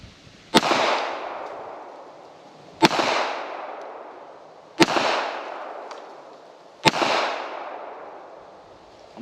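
Four sharp Russian 9x18 Makarov pistol shots with ball ammunition at an outdoor range, spaced about two seconds apart, each a loud crack trailing into a long echoing decay, with no talking.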